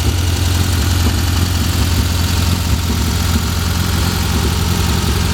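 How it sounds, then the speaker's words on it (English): A 1973 VW Karmann Gia convertible with a rebuilt motor runs steadily, its exhaust giving a continuous, loud, throbbing low rumble close by with no breaks. "The exhaust sounds good."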